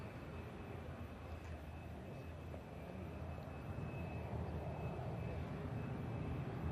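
A Saudi airliner taxiing at an airport, a faint distant engine drone and broadband rumble holding steady and swelling slightly toward the end, no talking.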